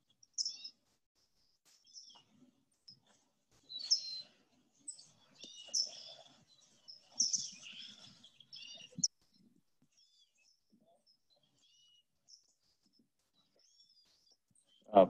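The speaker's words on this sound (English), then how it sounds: "I don't know if you can hear those birds" Birds singing outdoors near a big tree, several bright chirps and short song phrases in scattered bursts over quiet background, moderately close, with a few faint sounds between calls.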